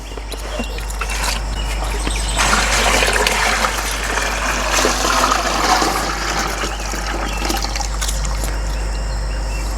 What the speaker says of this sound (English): Oh, no, she's gonna pour it right back in the bucket.